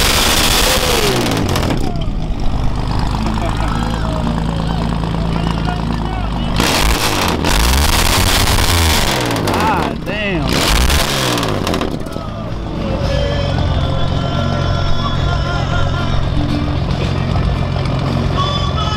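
A car at an outdoor car show in South El Monte, California fires up and revs hard several times through pipes near the ground, loud and close, with deep rumbling idle between bursts and people talking nearby.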